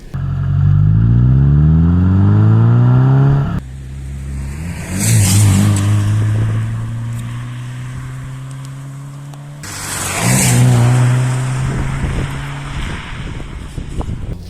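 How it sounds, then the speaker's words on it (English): A Subaru Impreza 1.5R accelerates in passes, its engine rising in pitch through gears with a distinctive exhaust note, loud and close, separated by a quieter gap and wind rush. "this car has a unique exhaust note"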